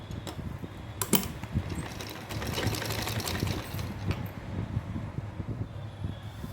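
A sewing machine stitching a frill onto a small doll's dress, running in a steady close mechanical whir with clicks and brief pauses, no voices.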